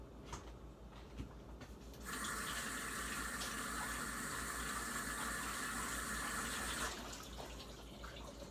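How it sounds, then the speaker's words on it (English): A tap runs in a steady, close gush for about five seconds while hands are washed beneath it, with no talking; quieter handling sounds come before and after. "hands are washed."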